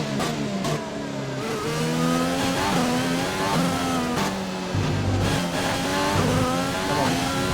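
Formula 1 race car engine during a dry lap of Australia's Albert Park circuit in F1 2020, a loud high-revving whine rising through gears with repeated upshift drops and brief braking downshifts.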